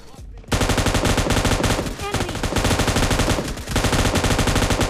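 Rapid automatic gunfire from the mobile battle-royale game PUBG Mobile Lite, dense loud bursts filling nearly the whole stretch with brief dips between volleys.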